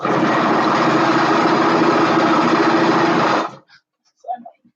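A sewing machine runs in one continuous whirring burst while stitching the last seam of a onesie, close and loud, then stops abruptly and a brief voice follows.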